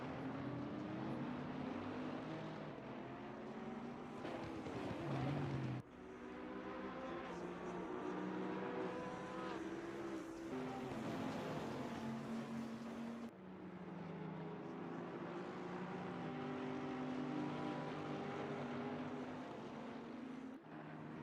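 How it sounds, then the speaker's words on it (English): Aston Martin race car engine in Assetto Corsa Competizione roars loud and continuous, rising in pitch through the gears with sharp drops at each shift, heard close and alone. "I love the sound of the Aston."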